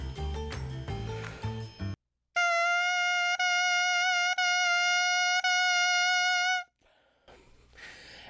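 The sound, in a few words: bassoon reed alone, tonguing exercise with constant airstream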